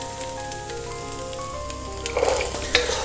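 Carrot stir-frying with ginger and green chilies in a pan, a steady close sizzle with faint stirring clicks and scrapes that grow brighter toward the end.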